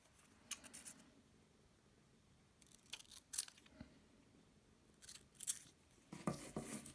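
Scissors snip through paper to cut out a letter G, a few quiet, close, separate clicks and crisp cuts spread over a near-silent background.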